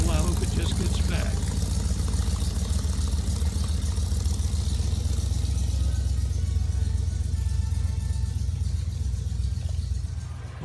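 A 1964 Ford Fairlane Thunderbolt drag car driving back, with a low, steady engine rumble close by under wind noise, the tone shifting slightly as it idles along, then fading a little at the end.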